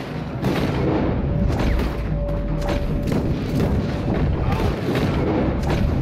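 Gunfire in a Red Dead Redemption 2 firefight, with loud, close shots booming over a dense, constant roar of battle noise throughout.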